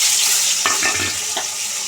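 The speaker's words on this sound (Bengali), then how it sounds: "ওই তেলেই আমি পেঁয়াজ কুচিয়ে রেখেছি, ওই পেঁয়াজ কুচিটা ওই তেলে দিয়ে দেবো।" Chopped onion fries in hot oil that was just used for frying fish, giving a loud, steady sizzle with a few scraping stirs in the middle and no talking.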